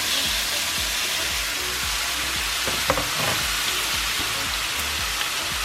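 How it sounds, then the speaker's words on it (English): Shrimp and sausage dropped into a hot pot crackle and sizzle steadily throughout, a dense frying hiss with small pops and a brief clatter near the middle, with no talking. "And now I'm dropping the shrimp and sausage."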